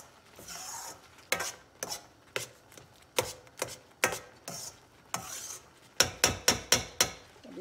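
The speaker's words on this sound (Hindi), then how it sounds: "चलिए अब इसको हम आहिस्ता आँच पे ऐसे ऐसे थोड़ी देर भूनेंगे।" Semolina halwa with cardamom roasting over low heat in a pan, stirred in a steady series of sharp scraping strokes that quicken into rapid clusters toward the end, with no talking.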